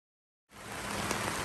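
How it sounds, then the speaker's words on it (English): Rain falls steadily outside an RV at a campsite, a sudden broad hiss that starts after a moment of silence and continues evenly, close and moderately loud. "Alright, we just got back. It's raining."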